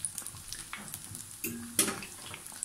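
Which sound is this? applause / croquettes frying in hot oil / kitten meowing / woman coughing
croquettes frying in hot oil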